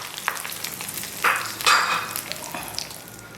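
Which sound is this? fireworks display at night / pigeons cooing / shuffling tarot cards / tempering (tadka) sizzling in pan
tempering (tadka) sizzling in pan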